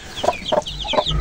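Small caged quails on a farm giving three short, chirping clucks at an even rhythm, close and fairly clear over light background noise.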